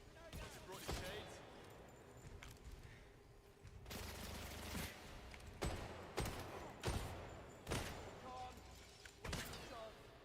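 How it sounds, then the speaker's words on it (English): Laser turrets fire in the spy video game 007 First Light as a series of sharp, loud blasts in an irregular rhythm, about eight bursts spread over a busy background, with no voices between them. "Deploying laser turrets"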